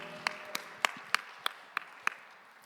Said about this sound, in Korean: 우리의 서로의 삶을 박수로 응원하고 축복합시다.